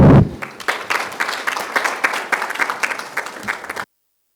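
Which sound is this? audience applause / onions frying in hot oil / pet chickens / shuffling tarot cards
audience applause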